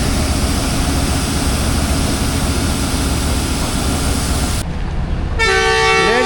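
The 47 Up Rehman Baba Express, a Pakistani passenger train running from Faisalabad to Rawalpindi, rumbles continuously as it departs. Its horn blares loudly in a sustained blast near the end, with no talking.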